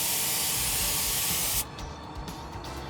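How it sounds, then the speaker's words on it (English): A Harbor Freight air spray gun blasts Malco dressing in a loud, steady pneumatic hiss for about a second and a half, then cuts off, leaving a few faint short bursts and quiet afterward. "I love using this just because it's just so easy to spray and it gets into everything"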